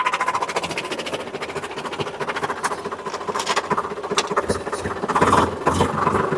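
A tractor hauling a trailer rolls downhill in low gear, its engine a steady mid-pitched drone close by with a brief louder surge toward the end, no talking.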